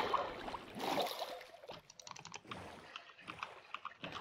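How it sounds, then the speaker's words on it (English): Rapid typing on a computer keyboard, with bursts of crisp key clicks coming close and fairly quiet, pausing briefly between flurries. "Good thing that I can type considerably faster than him."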